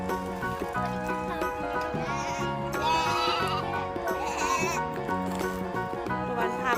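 Sheep and lambs at Chokchai farm bleat loudly and repeatedly at close range, several overlapping cries in quick succession, with faint voices in the background.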